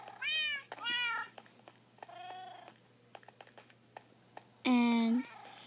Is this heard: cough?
no